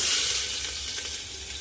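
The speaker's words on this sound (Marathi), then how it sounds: "आपण आधी कांदा ॲड करू" Chopped onion sizzles in hot oil inside a pressure cooker for a mutton curry, a loud, close, continuous frying hiss.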